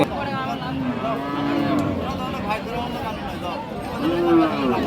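Shahiwal cows low and moo repeatedly at the Raniganj cattle market in Dinajpur, Bangladesh. Several drawn-out calls sound close, with faint crowd murmur behind them.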